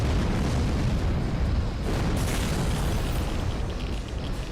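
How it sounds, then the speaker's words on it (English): Cannon fire and explosions in the Forts RTS video game, a dense continuous barrage of booms and blasts rumbling loudly throughout, with a brief lull near the middle before the bombardment continues. "And then the whole cannons start flying through the front again."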